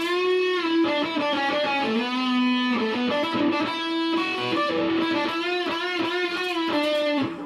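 Distorted electric guitar rings out through an Orange Crush CR120C 2x12 combo amp on the bridge pickup, gritty sustained notes and chords played continuously and loud.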